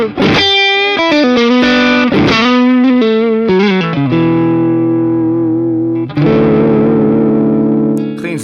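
Electric guitar through a Tube Screamer-style overdrive plus boost on a Sonicake Pocket Master multi-effects pedal, played as a busy driven riff that settles into sustained chords, loud and alone.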